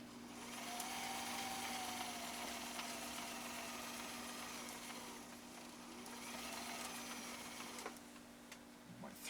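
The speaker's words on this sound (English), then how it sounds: "we're going to lay down this heartbeat style decorative stitch off of cam A on Grandpa's machine" A Viking 6010 sewing machine, a family heirloom damaged by a fall onto concrete, stitches a heartbeat-style decorative pattern off cam A, a faint steady motor hum with a rapid even needle chatter running throughout.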